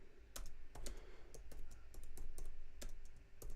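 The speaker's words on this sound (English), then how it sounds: "And yes, that is my Apple Magic Keyboard. You can hear me tapping on there" Quiet, close typing on an Apple Magic Keyboard, with soft, irregular key clicks and taps in a steady patter over a faint background hum.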